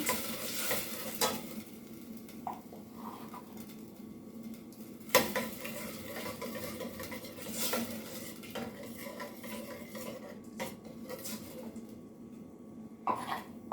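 Garlic sizzles quietly in a pan alongside other ingredients for a Puerto Rican pork dish, with a utensil scraping and clinking against the metal in irregular strokes, fairly faint and without talk.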